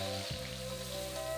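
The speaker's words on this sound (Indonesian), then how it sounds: "Sudah tu baru kita goreng udang rebon kita tadi." Dried small shrimp (rebon) fry in hot oil, a loud, dense, continuous sizzle starting abruptly as they hit the pan and crackling steadily throughout.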